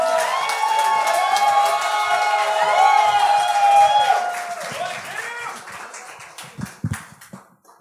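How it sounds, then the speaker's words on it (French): A crowd at a French-language stand-up comedy show claps and cheers as a comedian arrives, loud at first and tapering off, with whoops and scattered claps mixed with voices. "On applaudit pour Noakim l'arrivée!"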